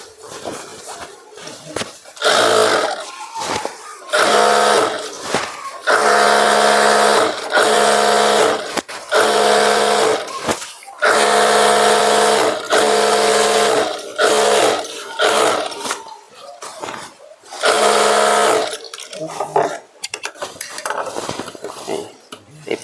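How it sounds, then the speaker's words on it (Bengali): A sewing machine runs a double seam on a Patiala garment in loud bursts of rapid stitching separated by short pauses, with occasional speech in between. "এটা পুরোটা ডবল সেলাই মেরে নেব"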